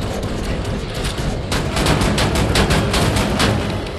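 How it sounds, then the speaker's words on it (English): Shotgun fire in the shooter game Wolfenstein: The New Order, a dense run of loud blasts and gunfire that thickens into a rapid cluster of sharp reports in the second half. "The shotgun did its job."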